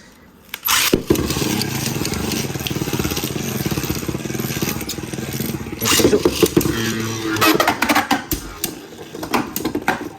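Beyblade Burst spinning tops Wind Knight and Ultimate Valkyrie clash in a stadium, giving a sharp launch followed by continuous scraping whir and rattling, with louder bursts of collision clatter toward the end.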